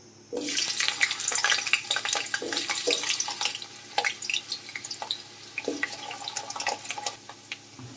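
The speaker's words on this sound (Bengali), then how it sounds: "এবার আলুটাকে এর মধ্যে দিয়ে ভেজে নেব" Cut potatoes drop into hot mustard oil in a wok and fry with a loud, busy crackle and spatter, steady throughout with bursts of sharper pops, no voices.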